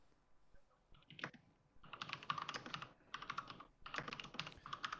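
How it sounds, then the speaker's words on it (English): Loud clacking of a mechanical keyboard being typed on, bursts of rapid keystrokes in several runs with short pauses between them, close to the microphone and heard without any speech. "I've got a really cool mechanical keyboard"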